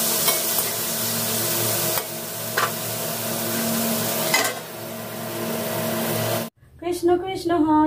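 Pointed gourd fries in a pan with a steady loud sizzle and occasional clinks of a stirring utensil, then the frying stops abruptly and a person talks.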